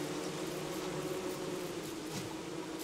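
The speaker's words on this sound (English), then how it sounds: "Away with you, killer nasty bees." Killer bees in the video game Don't Starve Together buzzing in a steady, close, droning hum that continues without pause.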